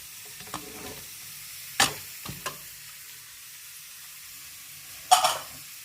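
White eyed peas dry-roast in a pan without oil, giving a faint steady hiss broken by a few sharp scrapes and clatters as they are stirred.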